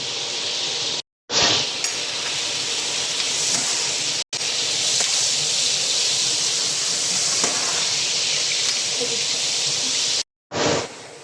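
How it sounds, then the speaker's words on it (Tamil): Onions and spices sauté in melted butter for Arabic mandi, giving a loud continuous hiss and sizzle with faint utensil clinks, broken by three short silent gaps. "வெங்காயத்தை வதங்கினா போதும்"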